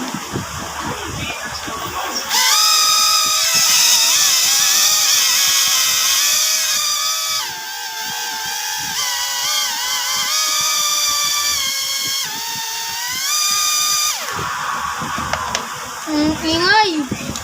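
Drag bike engine revving hard, a loud, harsh whining roar that rises and falls in pitch through several throttle blips, with voices talking near it.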